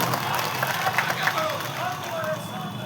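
Crowd applause at an outdoor political gathering at Samvidhan Chowk in Nagpur, a steady wash of clapping and crowd noise with voices mixed in, moderately loud throughout.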